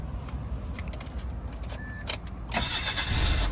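A 2002 Ford Tierra with an automatic gearbox: keys jangle and clicks come first, then the engine cranks and catches into a steady, close idle.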